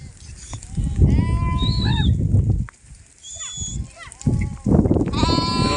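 Goats and sheep grazing in the Gir countryside, young ones among them, give several loud, close bleats in quick succession with short pauses, some calls overlapping, and a brief quieter gap partway through.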